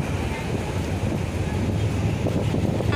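Strong wind on a boat at sea off Sir Bani Yas Island, Abu Dhabi, buffets the microphone in continuous low roaring gusts, with a hint of water splashing beneath.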